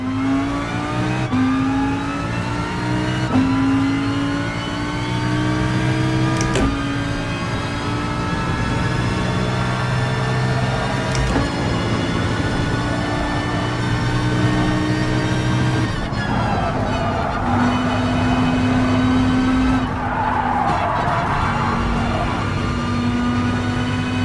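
A racing car's engine in Gran Turismo Sport, a driving-school run, revs hard and shifts up through the gears again and again, a loud continuous whine with no talk.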